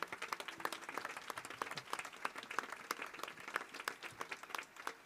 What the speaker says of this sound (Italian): Direi di far loro un grande applauso.